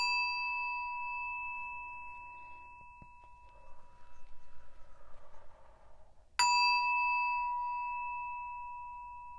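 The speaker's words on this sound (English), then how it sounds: "Let's ring this bell." A bell rings with a bright, sustained metallic tone that slowly fades, then is struck again sharply and rings out clear and close, with no talking over it.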